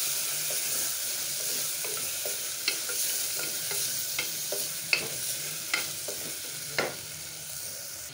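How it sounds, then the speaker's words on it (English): Tomatoes frying in a pan on low heat, a soft steady sizzle under a run of sharp spatula scrapes and taps against the pan at uneven intervals, close and fairly quiet, with no talking. "Stir this all very well. Keep it on low heat that it doesn't burn."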